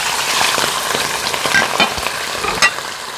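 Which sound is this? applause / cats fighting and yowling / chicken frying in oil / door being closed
chicken frying in oil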